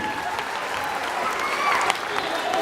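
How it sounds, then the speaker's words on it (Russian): Audience applause at a children's concert with a kindergarten group on stage, a continuous wash of clapping at fairly close range, steady throughout. "Аплодисменты."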